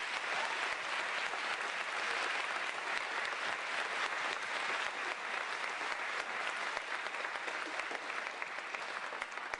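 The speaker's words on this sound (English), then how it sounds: "I think they need one more round of applause." A crowd at a United Way kick-off rally in Lincoln and Lancaster County gives a long, steady round of applause, dense even clapping that fills the hall without a break for nearly ten seconds.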